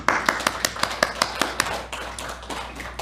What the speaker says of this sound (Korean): 우리의 예배를 받아주신 하나님께 영광의 박수 올려드립니다.